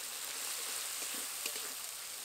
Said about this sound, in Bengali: এবার তেল ছাড়া পর্যন্ত বেশ কিছুক্ষণ কষাবো